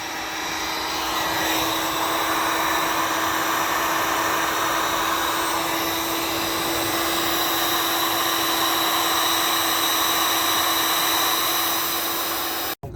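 Heat blower drying a wet roof membrane around a rain drain, a loud continuous close whine with a steady pitch that holds unbroken for the whole stretch before cutting off at the very end.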